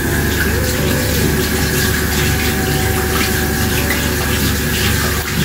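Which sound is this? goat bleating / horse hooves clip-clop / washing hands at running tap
washing hands at running tap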